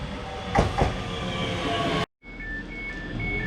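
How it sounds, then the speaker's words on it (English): A train rumbling past with a couple of rhythmic clacks, a brief cut, then steady rolling noise with faint high squeals from the wheels. "And here comes the train, which I think I'm filming."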